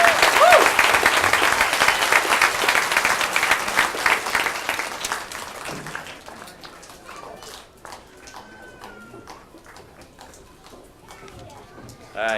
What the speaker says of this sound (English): All right, everybody give another round of applause to our principal award.